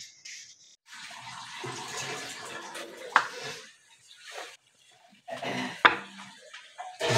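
Peanuts rubbed and handled by hand to strip off their papery skins, giving dry rustling and light clinking in bursts with brief pauses, close up and moderately loud.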